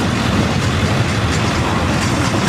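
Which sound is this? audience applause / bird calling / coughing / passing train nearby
passing train nearby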